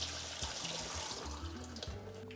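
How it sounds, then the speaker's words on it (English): Tap water runs steadily over soaked dried pinto beans being rinsed in a sink, a close, even splashing hiss with soft clunks and shifts, no talking. "After soaking, drain your beans, then give them a good rinse."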